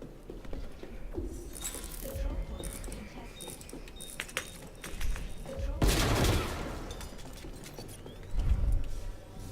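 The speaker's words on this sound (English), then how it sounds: "that was like 5 shots" Several gunshots ring out in the video game Star Citizen, sharp bursts scattered over a noisy background of clatter and movement, with two louder blasts standing out near the middle and end.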